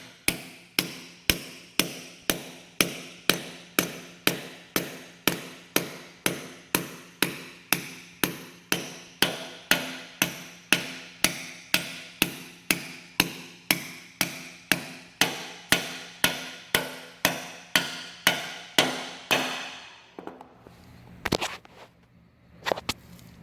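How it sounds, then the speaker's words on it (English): A hammer drives an anchor bolt into concrete in a steady, rapid series of sharp, ringing metallic blows, dozens in a row, close by, ending in a few scattered taps. "then we grab our hammer and we'll just drive it in."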